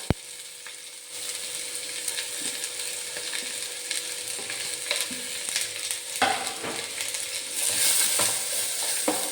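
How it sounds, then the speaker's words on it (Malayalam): Chopped onions and curry leaves fry in a pan with a steady, close sizzle, stirred now and then, the hiss swelling louder toward the end. "ഇനി നമുക്കതിലേക്ക് ഒരു 3 മീഡിയം സൈസ് സവോള കട്ട് ചെയ്തത് ചേർത്ത് കൊടുക്കാം"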